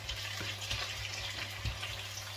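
Onions sauté in hot cooking oil in a pan, a soft continuous sizzle with low rumbling and a few brief stirring scrapes, quiet and close.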